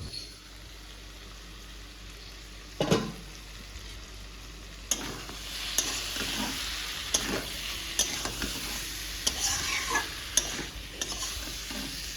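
Whole cumin, whole garam masala and bay leaves tempering in hot oil, a quiet continuous sizzle broken by intermittent sharp clatters and scrapes of a spatula stirring in the pan.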